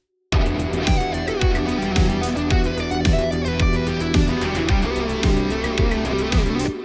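Distorted rhythm guitar mix run through a low pass filter, with dense chugging chords and drum hits in a steady driving rhythm, loud and continuous with no talking.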